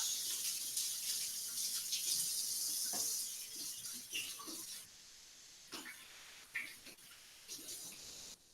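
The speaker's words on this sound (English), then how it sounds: "I'm also going to give my hands a quick wash." Water from a kitchen tap runs for a few seconds with a steady broadband hiss while hands are washed, then cuts off, leaving faint splashes, drips and small handling clatters in a quiet room.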